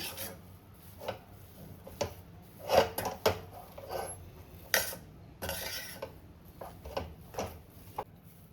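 A thick, drying high-protein halwa is stirred in a pan, giving a series of irregular scraping, rubbing strokes of a spoon against the metal with a few sharper clinks, moderately quiet and close up.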